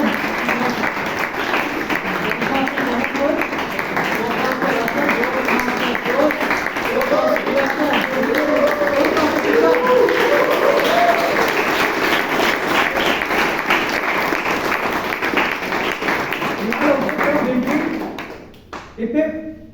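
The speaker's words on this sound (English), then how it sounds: "I would like you to clap throughout." Sustained applause from an audience at a Toastmasters club meeting in Bangalore, dense and steady clapping for most of the stretch with chatter and cheering mixed in, then tapering off near the end.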